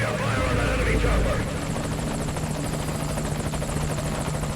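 A helicopter's rotor in the video game Metal Gear Solid V thumps in a fast, steady chop, loud and continuous, with a brief surge of louder noise near the start.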